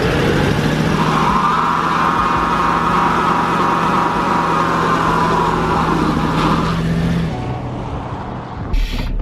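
A lowered 1995 Impala SS spins one rear wheel, its engine held at a high steady roar for several seconds before easing off, loud and close, with no speech.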